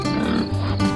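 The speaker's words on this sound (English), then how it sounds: "Pigs love to roll and wallow." A pig oinks while rolling and wallowing in mud on a farm, a short steady grunting run at close range with no talk.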